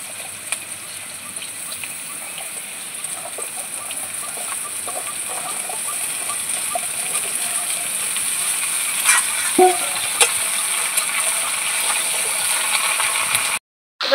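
Mixed garden vegetables added to potato and papaya frying in oil give off a steady, close sizzling hiss that builds slightly over time, with scattered clinks and scrapes of stirring before a sudden brief cutoff near the end.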